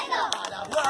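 Campers at a summer camp clap their hands together in a brief burst of sharp, overlapping claps, with lively crowd noise and shouting around them.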